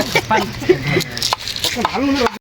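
Onions are chopped with a knife on a board for a village feast, quick irregular taps sounding close by under animated talk.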